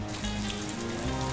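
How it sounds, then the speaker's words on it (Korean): Steady rain in a Roblox game world, a dense, even hiss of falling drops that holds at a constant level for the whole short stretch, with no voices. "이렇게 하면 빗소리가 안 들리고 이렇게 하면 빗소리가 들려."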